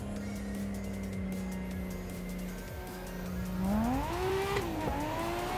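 A Nissan 180SX drift car in a racing game, its engine holding a steady drone before climbing in revs with rising pitch while the tires scrub, close and continuous with no talk.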